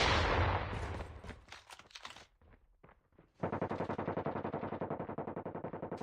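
Call of Duty Mobile gunfire: a loud opening volley decays into scattered shots, a short lull follows, then a rapid steady automatic burst keeps firing at an even rhythm to the end.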